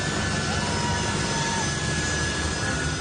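Engine of a US Globemaster military transport plane runs continuously, a loud, steady jet roar with a constant whine layered over a rumbling low end.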